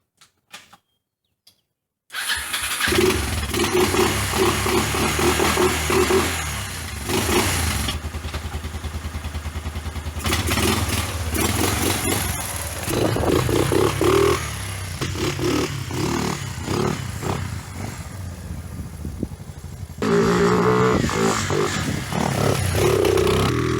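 A salvage Honda Rancher ATV engine cranks and starts after a short silence, then runs loud and close with revving and a rattling idle that dips and rises until the end.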